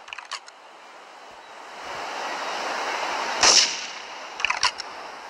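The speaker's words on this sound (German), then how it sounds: "Dann haben wir einmal hier die Sniper." A sniper rifle in the video game GTA 3 fires one sharp crack about halfway through, with a shorter burst of clicks near the end over a soft, steady rushing backdrop.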